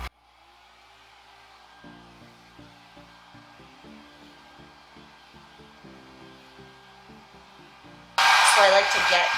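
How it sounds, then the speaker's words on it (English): A John Frieda hot air brush hums softly with low clicking underneath, then roars up loud and breathy near the end. "This is the John Frieda Hot Airbrush"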